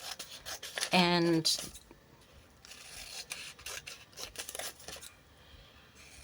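Scissors trimming a paper craft cutout, with one short burst of close, rasping snips followed by lighter rustling of paper. A voice speaks briefly.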